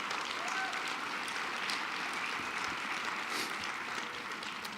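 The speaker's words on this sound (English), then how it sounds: "How about another round of applause for them?" At a national leadership awards lunch, a banquet audience gives young people a round of applause, a fairly soft but continuous wash of clapping that runs evenly from start to finish.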